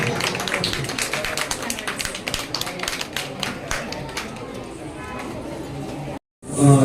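An audience at a school foundation's anniversary event claps loudly and continuously, a thick rapid patter of many hands with voices mixed in, tapering before a brief cutout near the end.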